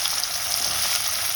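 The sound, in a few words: chopped onions sizzling in hot oil in kadai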